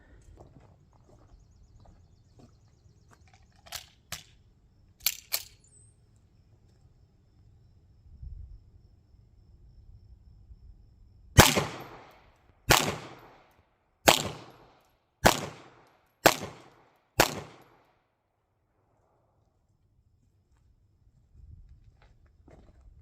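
Seven sharp pistol shots from a CZ75 B 9mm fired at a target 7 yards away, the first few scattered and the rest in a steady rhythm about a second apart, loud and close outdoors.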